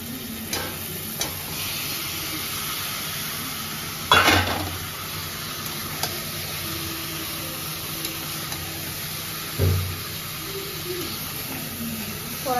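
Meat sizzles and fries steadily in a pan, with occasional clanks and scrapes from a utensil stirring it and no voices heard.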